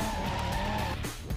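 A car drifts in the D1GP racing game on PS2, its tires giving a loud, sustained squeal over engine drone that wavers briefly near the end.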